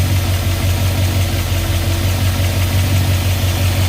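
A 1963 Ford Fairlane's 260 V8 idles at steady speed, a deep, even rumble that holds throughout with no revving, close and alone.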